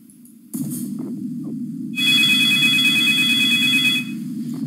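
A telephone rings in the horror video game Five Nights at BananaMan's, a sustained electronic ring that lasts about two seconds and is heard over a low game drone after a few faint clicks.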